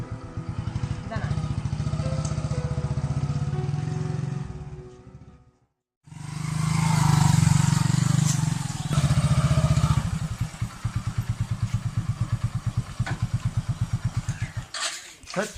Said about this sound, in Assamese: আমি বাইক লৈ যাই আছোঁ